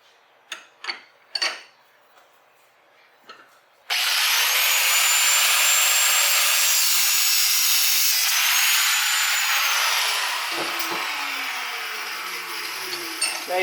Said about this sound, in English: So now we're going to take a cutoff wheel and cut right here.